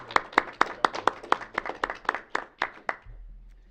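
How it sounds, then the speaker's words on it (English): A small group at a city council meeting claps in a brief, sparse round of about a dozen distinct, fairly close hand claps that trail off into quiet room hum. "So I think round of applause."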